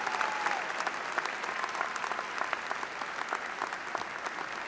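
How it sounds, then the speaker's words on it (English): Sustained applause from a college commencement crowd, steady, dense clapping holding at an even level from start to finish with no talk over it. "Would you please join in a round of applause for that group of folks this afternoon?"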